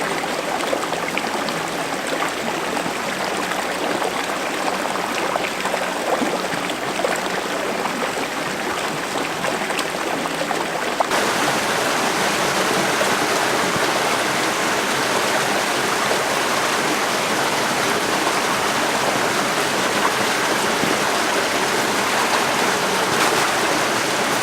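Rollasons Falls, the upper falls on Mount Buffalo, pours in a steady, loud broadband rush of falling water that swells noticeably partway through, as if stepping closer to the cascade, with no voices.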